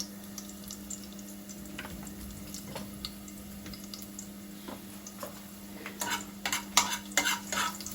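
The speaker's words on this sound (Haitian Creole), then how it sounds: "Pendant que l'ail est frit" Garlic frying in a pan makes a low, steady sizzle. Scattered utensil clicks and scrapes come through it, and the clatter grows busier and louder toward the end.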